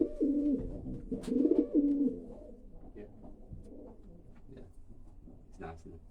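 Racing pigeons coo in low, rolling bursts close by, loudest early on and then fading to softer calls, while people talk alongside.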